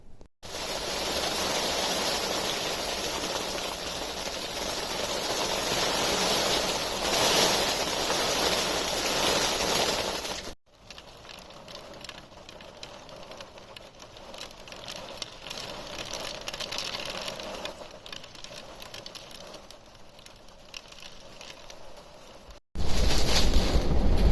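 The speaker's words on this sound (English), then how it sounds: "the boat's rocking and creaking and banging." Strong Storm Arwen wind roars continuously around a moored narrowboat, with faint creaks and knocks as it rocks, buried in the gusting noise; the level drops and surges abruptly.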